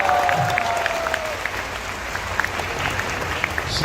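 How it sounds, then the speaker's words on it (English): Applause from the audience at a start-up conference, a steady, fairly close clatter of many hands clapping throughout, with a brief tone at the start. "Can you have a big round of applause for her as well?"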